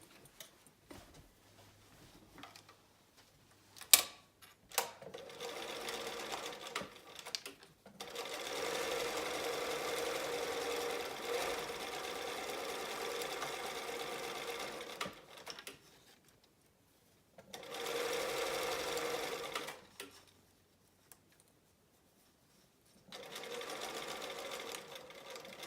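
A sewing machine top stitches the edges of a fabric keychain wristlet in three separate runs of steady whirring, moderately loud and near, with handling clicks and knocks between them.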